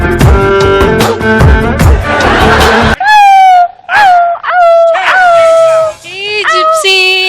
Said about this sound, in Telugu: ఇగో ఇంట్లో ఉండే అబ్బాయి కుక్క పిల్ల